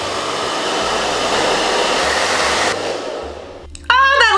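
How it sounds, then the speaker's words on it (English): Hair dryer running on a low speed setting while a wig is combed back, a steady close airy whoosh that cuts off near the end, followed by brief squeaky rubbing sounds. "get our blow dryer, and on a low speed, we're just gonna comb that hair back through"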